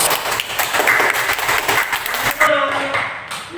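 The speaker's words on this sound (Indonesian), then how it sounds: "Dan kita tepuk tangan ya." Classroom students clapping together, a burst of mixed hand claps over a few seconds that thins out near the end, with a teacher's voice speaking over it.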